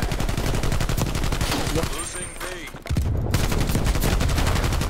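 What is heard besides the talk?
gunfire in the video game Black Ops Cold War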